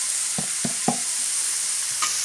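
Chopped onions and chilies sauté in a hot pan for ragi rotti, a steady hiss of sizzling punctuated by a few distinct scraping knocks of a spoon stirring.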